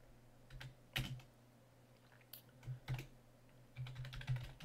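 Keys clacking on a computer keyboard while a date and time are entered in a project management app, coming in a few quick bursts with short pauses between them, close and fairly quiet.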